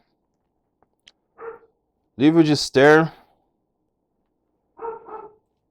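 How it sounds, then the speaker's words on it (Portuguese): A few short dog barks and yips, fairly close, breaking up someone speaking; a quiet pause separates the barks from his talk. "o cachorro começou a latir só porque eu comecei a ler aqui"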